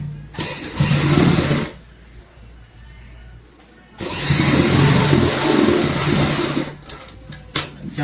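A sewing machine stitches a shopping bag made from an old shirt, with two close motor runs of about one and three seconds separated by a quiet pause.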